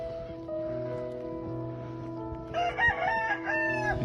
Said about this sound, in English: The chicken even don't want to come out.